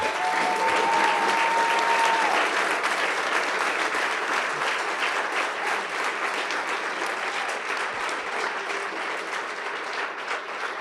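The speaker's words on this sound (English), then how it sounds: "Will you give them a round of applause?" An audience at an SXSW 2023 panel on affordable housing gives a long, steady round of applause, dense and sustained across the whole stretch and easing slightly toward the end.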